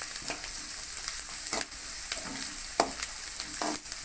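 Onions and green chilies sizzling steadily in a pan for a pumpkin stir-fry, with a spoon scraping and stirring through at irregular intervals, close and clear with no talking.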